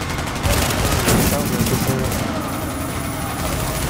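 Gunfire in The Division video game during a tech wing hostage rescue: a continuous, dense barrage of rapid shots with heavy low-end thumps, sustained loudly throughout.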